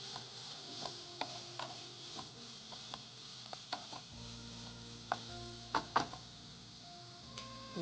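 Two onions are sliced into thin pieces with a knife on a board, giving a quiet, steady series of light chopping taps, close and alone, with no talk.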